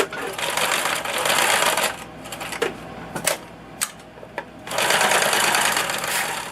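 A sewing machine stitches through a stiff, uninterfaced handle on a fabric pattern holder in two loud, rapid bursts, with a quieter gap between them holding a few sharp clicks and knocks.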